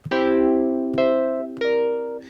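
Three struck electric piano chords with a shimmering, wavering chorus, each ringing out and decaying before the next, played alone.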